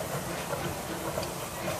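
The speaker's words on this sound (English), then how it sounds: "That's the train." Steam train passing at Disneyland: a steady, hissing, rumbling wash of sound, moderately loud and even for the whole stretch, with no distinct chuffs standing out and no talk.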